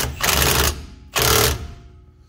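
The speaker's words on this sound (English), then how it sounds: "I'm gonna hit it with the impact gun." Impact gun working on the rear wheel bearing of a 2014 Nissan Versa, two loud rattling bursts of about half a second each, close up, separated by a short pause.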